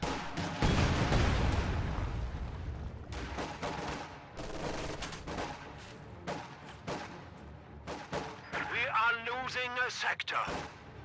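Panzerfaust blasts and rapid 222 armored car autocannon fire in a World War II strategy video game, a loud, continuous barrage of overlapping shots and explosions, with a warbling engine-like tone rising near the end.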